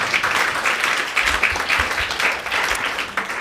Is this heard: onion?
no